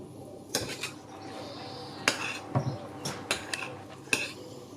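A spoon scrapes and clinks against a pot while salt is stirred into cooked, fluffy basmati rice, a handful of sharp metallic knocks over soft scraping, close and fairly quiet.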